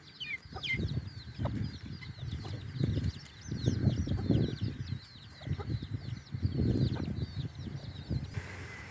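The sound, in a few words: hens and chicks clucking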